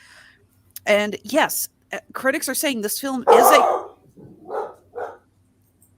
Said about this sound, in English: I'm sorry about the barking dogs.